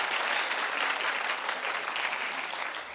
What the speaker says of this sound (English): Clap if you would like to sign it.